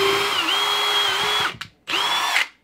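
A power drill bores a hole through a house wall, the bit breaking through into insulation; a loud, steady high whine runs about one and a half seconds, stops briefly, then spins up again for another half second before winding down.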